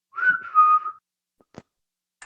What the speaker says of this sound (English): Somebody whistle.